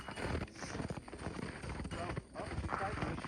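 Hooves of a young horse on only her third training ride in a fenced area, a rhythmic thudding clip-clop close by under a rider's ongoing talk, with steady wind noise.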